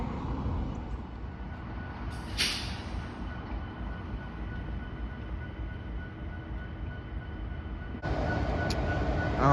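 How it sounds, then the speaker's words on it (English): A train led by an SD70ACE with an AC44 trailing rumbles past at close range at Sulfur and Knox Avenue, a steady low roar with a brief horn-like burst early on and a louder surge near the end. "There's a train."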